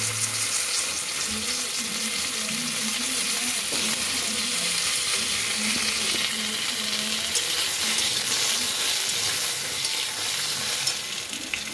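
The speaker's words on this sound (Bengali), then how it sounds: "কচুগুলো দিয়েও হালকা নাড়াচাড়া করে নেব।" Fried eggplant and taro pieces are stirred in a hot pan, a steady close sizzle with soft scraping and shuffling of the spatula throughout, with a faint voice in the background.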